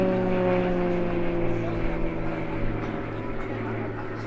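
Royal Jordanian Falcons propeller aerobatic planes loop in line abreast formation at an air show, giving a steady, droning engine hum with a sustained tonal whine, moderately distant and even in level.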